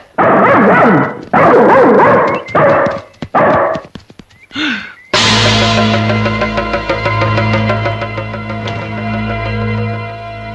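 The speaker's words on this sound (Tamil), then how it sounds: "நாய் குலைக்குது." A dog gives several loud, close barks in quick bursts, followed by a swell of music, in a Tamil feature film scene.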